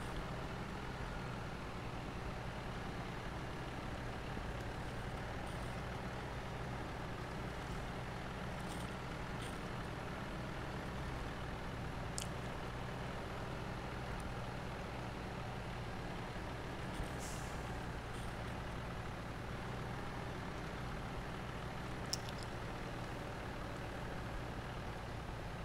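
A truck engine in the SnowRunner video game labours steadily uphill, a constant low drone with occasional faint hisses and clicks, loud and alone without talk.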